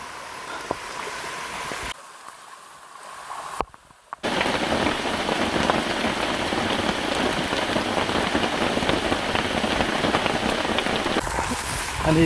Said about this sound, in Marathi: बघा पाऊस धबधबा चालू झाला इथे आणि हे बघा पायऱ्यांवरून पाणी